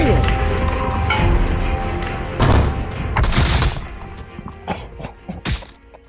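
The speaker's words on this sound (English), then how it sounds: "I didn't know you could just shoot them like that." Gunfire and crashing impacts while shooting zombies in Teardown VR, a few loud booming blasts and thuds followed by sharper scattered shots and breaking debris, close and fairly loud.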